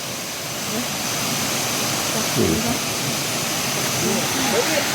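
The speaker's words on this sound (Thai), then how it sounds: "น้ำตกจะไหลลงมาจากภูเขา" Steady, broadband rushing of Phlio Waterfall in Chanthaburi, Thailand, falling from the mountain, fills the whole clip, loud and constant, with faint voices barely showing through.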